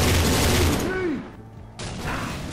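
Gunfire in the zombie co-op shooter Left 4 Dead 2: a dense burst of shots up front that gives way to quieter game noise, with someone talking over part of it.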